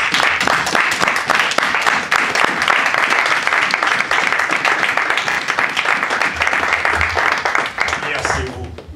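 Congregation applause in a church service, loud and dense, a sustained wash of many hands clapping close by for about nine seconds before fading out at the end.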